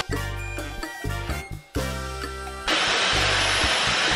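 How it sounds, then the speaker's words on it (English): Electric blow dryer switched on and off in short bursts, then running steadily, a loud whirring motor hum with a broad airy rush while drying a face mask. "I think I need to get a blow dryer."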